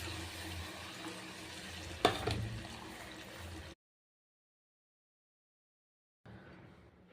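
Jaggery sizzling in a kadai still hot from frying edible gum, a steady close fizz with one sharp clatter, then a few seconds of silence before a fainter sizzle returns.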